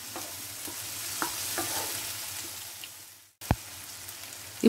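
Onions and curry leaves sauté in a pan, a soft steady sizzle punctuated by a few light scraping stirs and a sharper knock near the end, with a short dropout midway.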